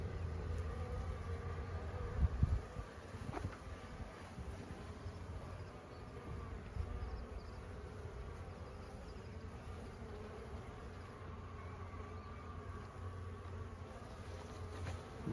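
Honeybees swarm and hum steadily around an open hive being inspected, a dense, continuous buzz close by with a brief louder bump of handling noise early on.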